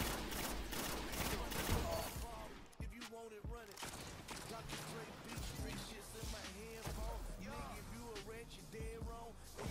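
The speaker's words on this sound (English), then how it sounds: "using your new hand cannon already?" Rapid hand cannon gunfire in a video game cracks repeatedly in bursts, loud and close, while voices talk over the shooting.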